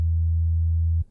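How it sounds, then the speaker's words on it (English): A pure sine tone from a free synthesizer plugin holds steady and loud at one low pitch for about a second, then cuts off abruptly. "this is a sine wave"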